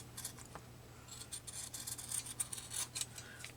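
Scissors snip at material to leave a deliberately ragged edge, a series of quiet, crisp cuts coming in short irregular bursts close by, with no talking.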